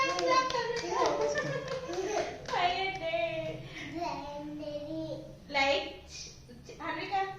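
Several people, including children, clap along in a bright, rapid patter while voices talk and call over it.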